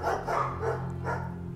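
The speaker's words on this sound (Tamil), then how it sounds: "அப்போ ஒரு நாய் குறைக்கிற சத்தம் கேட்டது." A dog barks in a few quick, moderately loud bursts, heard alone without any talking.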